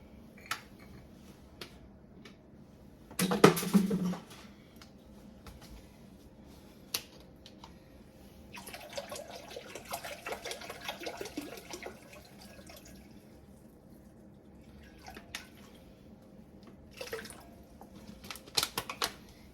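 Water splashes and pours into a pot for a few seconds, with scattered clinks and drips around it, fairly quiet and close.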